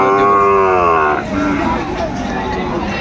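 A loud, close cow moos once with a long, drawn-out call at a cattle market selling Sahiwal and other breeds, then crowd noise and distant babble of the busy market continue.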